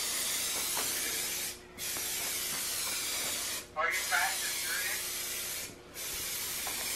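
Three long bursts of aerosol spray paint hiss onto a Mazda Miata, each separated by a short pause. A voice briefly sounds in the background.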